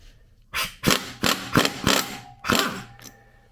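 Special tool working a lock nut loose on a Honda XR70 engine, a series of about six sharp metallic clanks and ratcheting bursts at close range, spaced unevenly with brief pauses between them, no talking.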